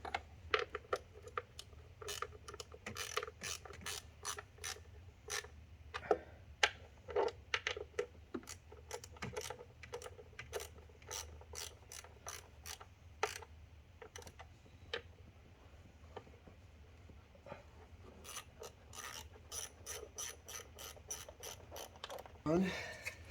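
A ratchet wrench tightens a coil pack bolt on a 2015 Mustang GT engine, giving long runs of rapid, evenly spaced clicks with short pauses. The clicks sound close but faint and mechanical, and nobody speaks.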